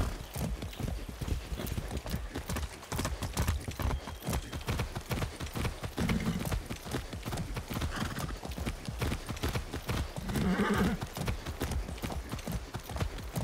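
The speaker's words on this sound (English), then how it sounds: "Shit, I haven't ridden a horse since basic training." Rapid, rhythmic hoofbeats of a galloping horse in the video game Far Cry 6, loud and close, with a brief whinny partway through and no talking.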